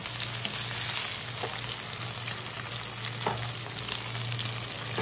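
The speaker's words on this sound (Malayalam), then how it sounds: "നമുക്കൊന്ന് ഫ്രൈ ചെയ്തെടുക്കണം കേട്ടോ" Masala chicken pieces, already pressure-cooked, fry in a pan with a continuous loud crackling sizzle and occasional stirring scrapes, over a low steady hum, with no talking.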